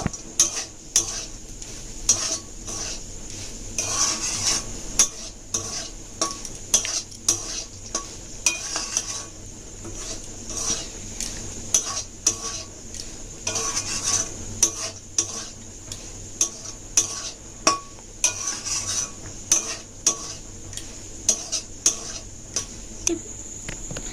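Sugar is worked into a banana pitha mixture of coconut and chopped raisins with a spoon, making soft repeated scraping strokes and regular light clicks against the bowl, close and steady with no one talking.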